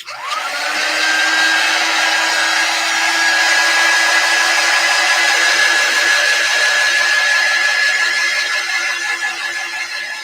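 A hair dryer or heat gun blows steadily on chalk paint coating an LED glass block, a loud continuous whir with a rising tonal whine as it spins up, then holding at an even pitch with no talking.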